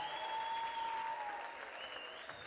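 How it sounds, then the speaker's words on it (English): A crowd at an African American graduation ceremony at Peralta Colleges applauds the graduates, a continuous, even wash of many hands clapping in a large hall, heard alone at moderate distance. "Let's give them a round of applause"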